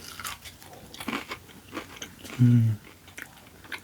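Crunchy Wingstop voodoo fries being bitten and chewed close to the mic, with soft mouth noises and one louder crunch partway through, plus a brief appreciative hum.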